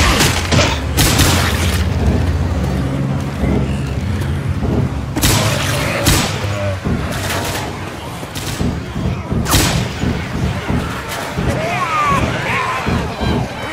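Pipe bomb blasts in the zombie shooter Left 4 Dead 2, heard as several loud booming bursts, roughly three big hits spread across the stretch, amid continuous gunfire and chaotic game noise, with voices talking over it.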